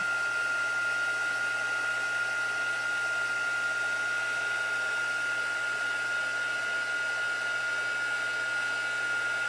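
A handheld heat gun runs steadily while melting embossing powder for paper crafting, a constant whirring blow with a faint whine, close and even throughout with no talk.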